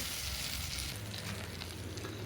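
Potatoes and broad beans sauté in hot oil in a pan, giving a steady, close sizzle with light stirring movement and no voices.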